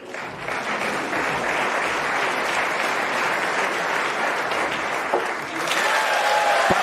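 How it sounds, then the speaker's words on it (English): A Crucible snooker crowd at the 2023 World Championship applauds a Ronnie O'Sullivan century break, with dense, sustained clapping that stays loud and steady throughout and carries no speech. "And just listen to this crucible crowd. They're loving every minute of this."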